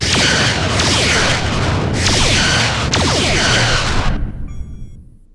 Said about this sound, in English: Firing photon torpedoes